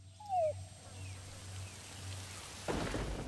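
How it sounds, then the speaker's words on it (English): Steady rain falls in the stealth game Metal Gear Solid V: The Phantom Pain, a soft continuous wash with a brief rising tone early on and a louder swell of rain or thunder rumble near the end, no talking. "our intel unit is reporting rain approaching our vicinity"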